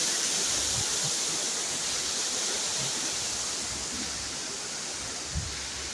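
A waterfall cascade in a park of palms and ficus trees in Alicante gives off a constant, full rushing hiss of falling water, with no voices and only a faint thump near the end.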